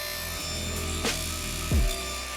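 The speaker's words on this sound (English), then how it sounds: "I then set my miter gauge to 45 degrees and cut the end of the base." Saw cutting the end of a wooden coaster base at a 45-degree miter, heard as a low, steady rasping drone with a brief louder burst near the end, close by and without talk.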